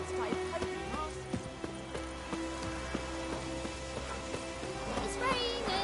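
Steady rain patters across a surface with scattered drips and thuds, a continuous wet hiss with faint game-like tones underneath, in the video game The Witcher 3.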